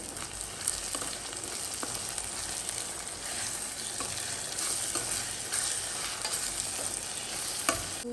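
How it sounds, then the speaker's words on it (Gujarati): Okra and onion curry sizzles in a hot pan as chutney is stirred in, giving a steady close frying hiss with soft scraping stirs throughout and no talking. "તો હવે એને આપણે શાકમાં મિક્સ કરી દઈએ."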